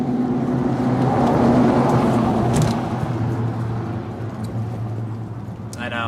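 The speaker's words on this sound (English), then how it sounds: "love when loud people drive by and ruin my shot" A loud car passing outside during a rotor and brake parts unboxing, a steady engine roar that swells and then fades as it drives by, heard close and prominent.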